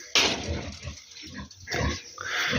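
Pigs in a barn grunt steadily at close range, with overlapping snorts and rough oinks rising and falling over a few seconds.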